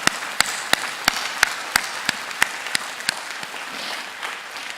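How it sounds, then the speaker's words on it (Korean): Applause from a church congregation, sharp individual claps standing out, a dozen or so distinct smacks over a softer patter that fades toward the end. "앞뒤 좌우를 향해서 한번 박수해 주시기 바랍니다"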